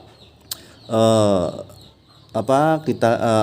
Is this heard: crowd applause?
no